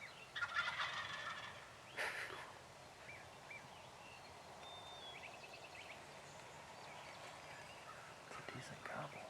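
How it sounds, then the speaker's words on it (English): A wild turkey gobbles during a spring hunt in New York, a short burst of the call near the start, fairly distant against an outdoor background with faint whispering nearby. "It's a decent gobble."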